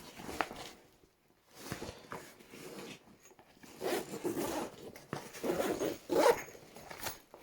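Zippers on the pouches of an everyday-carry backpack are pulled open, a run of raspy, close zipping strokes in bursts over several seconds, with no talking.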